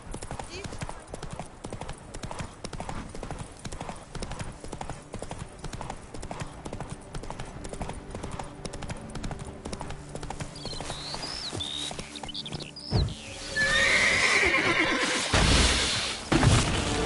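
Horse hooves clip-clop at a steady gallop in The Witcher 3, with a horse neighing near the end over game music and a brief spoken voice.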